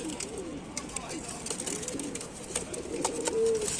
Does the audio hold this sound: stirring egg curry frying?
no